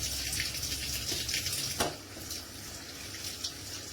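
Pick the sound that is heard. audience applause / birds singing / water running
water running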